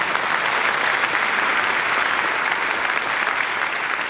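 Audience applause at an awards event honoring supporters of a health center, a dense, steady clapping from a large crowd filling the room throughout without pause.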